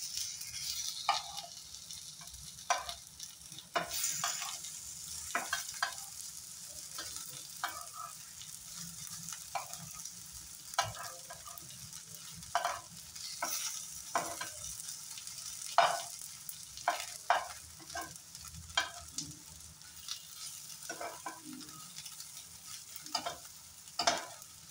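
Dal pakoda fritters fry in a small amount of oil with a steady soft sizzle, broken by frequent sharp scraping and tapping clicks as they are stirred and turned in the pan.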